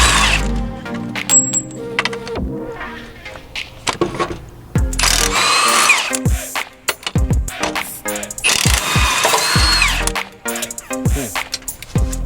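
A ratchet wrench working a nut off an engine bracket during a Honda B20B engine swap: close metallic clicks, clanks and rattling bursts, stopping and starting throughout, with tool handling between runs.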